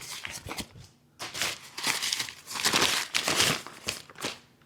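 Packing material crinkles and rustles in bursts as hands search through it while a Go Power Sports UniTank gas tank is unboxed, close and without talk.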